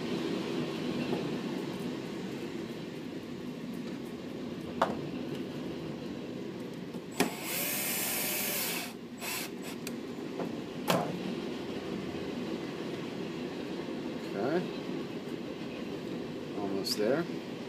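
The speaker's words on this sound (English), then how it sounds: "It's a long train." A long train rolls past steadily at a moderate distance, a continuous rumbling wash with faint clacks and a brief burst of brighter hiss midway, under someone talking in a workshop.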